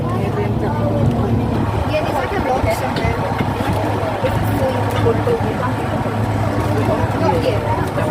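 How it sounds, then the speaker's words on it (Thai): A loud, steady tractor engine drone runs throughout a ride, with a low rumbling hum and a voice talking over it. "วันนี้นั่งรถไถกันค่ะมานั่งรถไถ"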